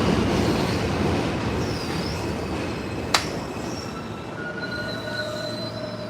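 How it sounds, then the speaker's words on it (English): A passing train rolls by with loud, continuous rumble and long high-pitched wheel squeals, plus a single sharp click midway; steady and close throughout, with no talking. "We just missed the blasted train."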